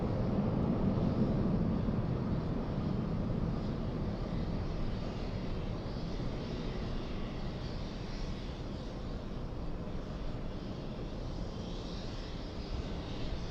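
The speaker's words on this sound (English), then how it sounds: "taxi lights have activated on the Delta Airlines A350. Already on the move" A steady, distant jet engine roar from a Delta Airlines A350 airliner taxiing at LAX, broad and unchanging throughout with no voices.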